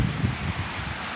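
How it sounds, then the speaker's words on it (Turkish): Wind blows across an open outdoor spot, a brief low rumbling buffet against the microphone with faint rustle, steady and alone without speech. "Rüzgar var ama rüzgar bizi etkilemiyor."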